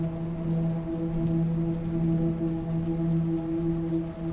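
Steady rain falls with wind gusting through it, a constant, fairly quiet wash of sound with no voices.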